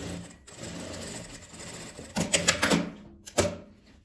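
A sewing machine runs steadily, stitching a closing seam through doubled fabric, then stops for a short clatter of handling and one more brief burst, close and alone with no talk.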